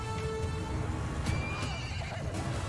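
Cavalry horses neighing and hooves clip-clopping amid a large medieval-style battle in Mount and Blade II: Bannerlord, with whinnies cutting through a dense, continuous din of fighting.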